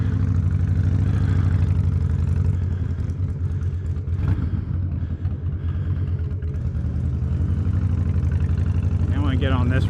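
A Harley-Davidson Softail motorcycle engine runs steadily and loudly up close while riding, a deep continuous rumble with slight shifts in pitch, and a voice talks briefly over it.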